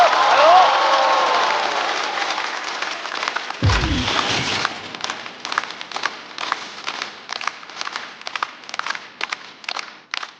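A stand-up comedy audience applauding and cheering to welcome a comedian, a broad roar of clapping and crowd noise at first, with a voice over it early on, then thinning into sparse, scattered claps that fade out.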